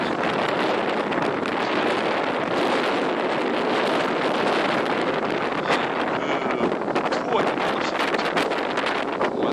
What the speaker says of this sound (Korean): 저 소리는 바람 소리예요